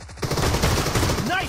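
Rapid close gunfire from PUBG Mobile, a dense burst of shots filling a brief moment, loud and punchy with a faint voice-like chirp near the end.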